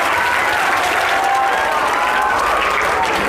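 Live audience applauding loudly for soldiers at the border during a Gandhi Jayanti speech event: dense, sustained clapping from a large crowd, steady and close with no pause, with some crowd noise mixed in.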